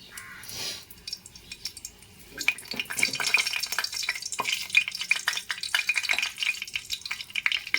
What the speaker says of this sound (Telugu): తగినంత ఆయిల్ పోసుకున్నప్పుడు అది కొద్దిగా వేడెక్కిన తర్వాత మనము పట్టాలు లవంగాలు బిర్యానీ ఆకు వేసుకున్నాం కదా అది వేసేద్దాం